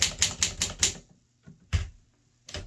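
An Olympia SM3 or SM4 manual typewriter clacks as keys are pressed: a quick run of five sharp strikes, a pause, then a few more isolated key hits, close and crisp with no talk.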